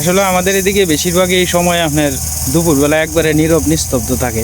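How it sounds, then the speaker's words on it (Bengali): Crickets chirp by a riverbank at midday, a thin steady high-pitched drone running beneath someone talking close up. "ঝিঝি পোকে ডাকতেছে।"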